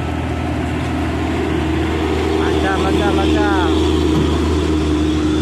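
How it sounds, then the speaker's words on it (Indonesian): A heavily loaded Hino truck working through a bend, its engine a loud, steady mid-range drone close by, with a brief rising whine partway through and someone talking over it. "Wow. Hino. Muatan berat, guys."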